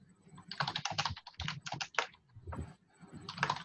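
Rapid bursts of typing on a computer keyboard while entering commands, close and fairly loud, with short pauses between flurries of keystrokes and no speech.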